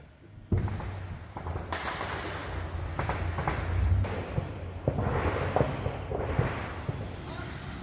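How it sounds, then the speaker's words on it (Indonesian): Artillery fire near the Thai-Cambodian border: a series of sharp booming impacts and rumbling blasts at irregular intervals, with a voice talking over them. "Suara artileri terus terdengar di sekitar desa."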